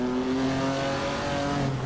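A Ferrari engine in the Assetto Corsa racing game holds a high, steady revving whine, loud and continuous, with a slight drop in pitch near the end.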